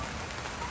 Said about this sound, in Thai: ฝนกับตกมากพอดีครับมันครับก็ได้ชะงักไปก่อน